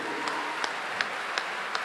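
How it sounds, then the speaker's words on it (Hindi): An audience applauds at a Divya Darbar gathering in Dubai, a steady wash of crowd clapping with a few sharper claps rising at regular intervals. "तो आप सभी को इनके लिए खूब तालियां बजानी चाहिए"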